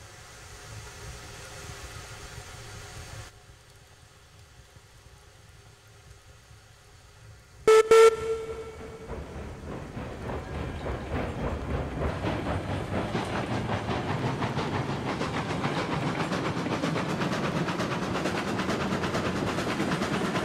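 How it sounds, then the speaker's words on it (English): In the Railroads Online video game, a train is driven over newly laid track: a quiet idle, then a brief loud whistle blast, then a steady rumbling clatter that builds as the train rolls on. "Let me drive the train over it, make sure it fits."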